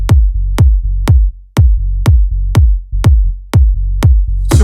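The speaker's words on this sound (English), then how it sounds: "Blend it together with your low kick" Low kick drum fused with a sub bass line, treble rolled off, in a hip-hop style remake of a song: about ten loud, tight, evenly spaced thumps, each sustaining into a deep sub tone.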